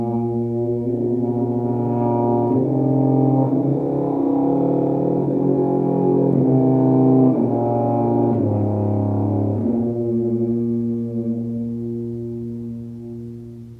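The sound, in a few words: tuba played while singing into it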